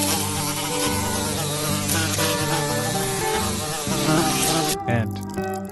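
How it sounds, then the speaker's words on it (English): A bee buzzes steadily and close for several seconds, a dense insect drone layered over background music that continues alone at the end. "bee"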